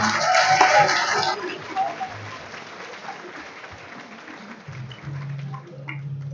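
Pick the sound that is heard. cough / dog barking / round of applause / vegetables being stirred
round of applause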